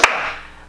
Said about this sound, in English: We'll clap maybe our hands